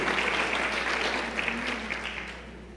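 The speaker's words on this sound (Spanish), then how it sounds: "démosle un aplauso a Dios por eso" A church congregation applauds during a Spanish-language sermon, a steady wash of many hands clapping that fades gradually toward the end, with no one speaking over it.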